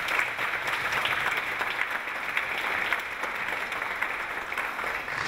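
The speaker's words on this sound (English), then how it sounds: "Let's give all of them a round of applause." Sustained applause from a graduation ceremony crowd fills the hall, a dense, even patter of many hands clapping at steady volume from start to finish.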